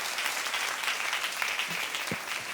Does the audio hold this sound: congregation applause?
yes